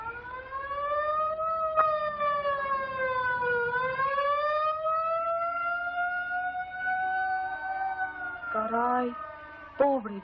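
An ambulance siren wails steadily in a long rising and falling tone for about ten seconds, loud and sustained, with a few clattering noises near the end in a 1951 street scene.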